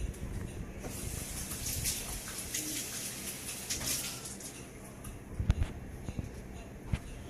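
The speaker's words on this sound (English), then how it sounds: "Now you want to take and rinse it out because you got seeds and all that in there." Tap water runs and splashes while seeds are rinsed out of a bell pepper, a soft continuous hiss with a few louder knocks near the end.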